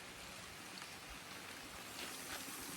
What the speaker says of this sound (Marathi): पाऊस पण छान पडतोय